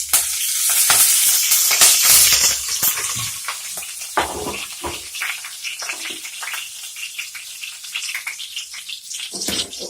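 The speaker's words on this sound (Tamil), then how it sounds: "அந்த 1/2 பச்சை மிளகாய் மட்டும் போட்டுருங்க. வதங்கட்டும்." Half a green chilli sautés in hot oil in a pan for crab curry, a loud hissing sizzle that peaks early and then settles into steady crackling with stirring scrapes.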